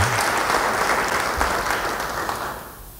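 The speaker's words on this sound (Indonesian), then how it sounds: "Yang mau beri tepuk tangan bagi dia." A church congregation applauds in a dense, even wash of many hands clapping, fairly loud at first and slowly fading toward the end.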